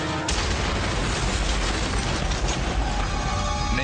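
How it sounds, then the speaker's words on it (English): A pickup truck explodes as it is started, a sudden loud boom that opens into a sustained roaring, crackling blast lasting several seconds. "there was an explosion."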